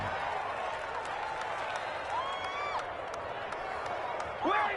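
A stadium crowd in a PS4 football video game with the Vikings keeps up a steady, distant roar of applause and cheering, swelling briefly at the end, while a commentator talks over it.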